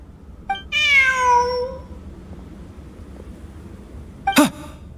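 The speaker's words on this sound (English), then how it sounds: "Look! A cat!" A cat meows in the Genshin Impact video game, one long drawn-out meow followed a few seconds later by a short sharp chirp, clear and close with no talk over it.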